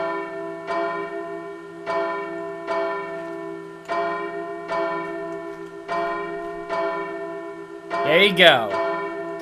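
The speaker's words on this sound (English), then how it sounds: "welcome to the Hornburg Bell Tower" A bell in a player-built bell tower in the ARK video game tolls about seven even, ringing strokes, each sustained and decaying, with a brief spoken phrase near the end.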